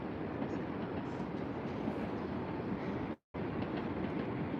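A Tohoku Shinkansen train at Tokyo Station makes a continuous broad rumble that stays loud and steady. It cuts out briefly near the end, then resumes.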